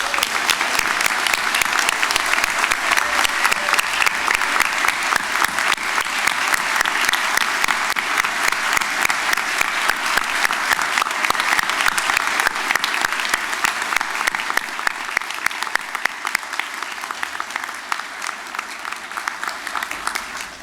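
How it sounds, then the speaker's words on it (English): Family and friends at a spring university convocation applaud the graduates: loud, dense, sustained clapping from a large crowd, continuing steadily for about twenty seconds and easing slightly near the end. "join us in a round of applause for our amazing graduates"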